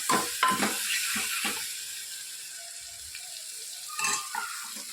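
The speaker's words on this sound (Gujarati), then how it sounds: "ગરમ મસાલો સરસ બધું મિક્સ કરી લઈએ" Garam masala and red chilli being stirred into hot oil in a pan, giving a steady close sizzle with a few scraping stirs near the start and again near the end.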